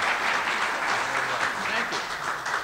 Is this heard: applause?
yes